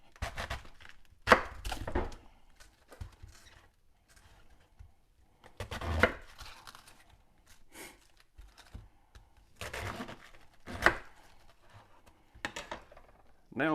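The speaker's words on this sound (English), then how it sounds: "I'm going to quarter the cabbage" Knife quartering a cabbage after its loose leaves are peeled off, several sharp, close chopping thuds in separate bursts with quiet gaps between them, no voices.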